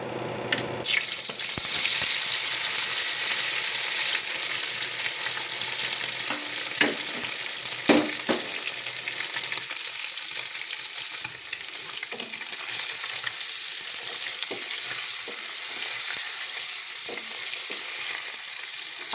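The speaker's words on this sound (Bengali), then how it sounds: "তো আমি পনিরটা ভাজি" Paneer frying in hot oil, with a loud, continuous sizzle close by that settles slightly over time, broken by occasional spatula scrapes and clicks, with no talking.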